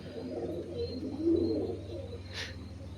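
A male Arsad-line pigeon, small and of pure stock, gives a soft, low cooing call at close range. It rises once to a brief swell over a faint steady hum, with no talk.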